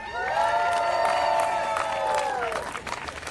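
An outdoor crowd cheers, whoops and applauds at a Christmas tree ceremony in Washington, D.C., honoring a tree from the Kootenai National Forest. The sustained, loud roar of clapping and shouting holds steady for about three seconds, then tapers slightly.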